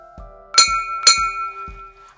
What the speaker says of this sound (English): Let's ring the bell and say it again together.